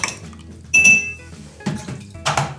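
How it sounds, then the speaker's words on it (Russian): A metal spoon clinks against glass while stirring a Paloma cocktail with tequila, a few bright, close chimes and scrapes in separate bursts with no talking. "Дальше берем ложечку. Так вот, немного перемешиваем."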